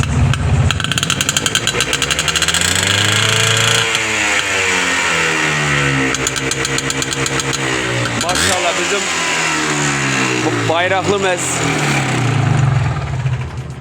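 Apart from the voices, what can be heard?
car engine revving through loud exhaust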